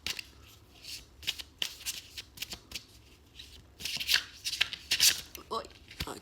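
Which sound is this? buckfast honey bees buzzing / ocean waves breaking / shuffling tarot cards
shuffling tarot cards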